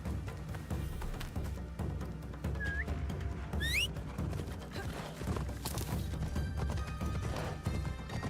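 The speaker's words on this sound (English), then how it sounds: "I'll get to Katano faster by horse." A horse's hooves clop along in the Assassin's Creed Shadows video game, a steady rhythmic trot under game music and effects, with a couple of brief whistling tones rising above the mix.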